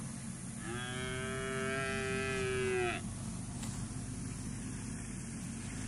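A Brangus cow gives one long, loud moo lasting about two seconds, rising slightly in pitch before cutting off, over steady outdoor wind and engine-like background noise.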